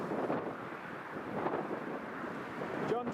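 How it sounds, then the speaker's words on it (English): Storm Eowyn wind at Newcastle Airport buffets the microphone in a steady, rough rush of noise. It holds fairly constant with slight surges and no clear voice over it. "especially as the wind's dying down"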